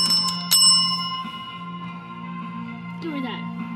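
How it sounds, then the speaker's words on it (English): A small bell rung after a wrestling match, with a few quick, bright strikes at the start that ring on and fade slowly, while low voice sounds continue underneath. "I forgot to ring the bell."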